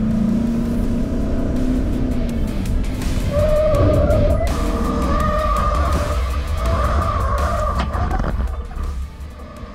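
A pickup truck cruising at 90 km/h just before a sudden lane change, heard from inside the cabin: a steady loud road and engine rumble with tonal whines and some tire noise, continuous throughout.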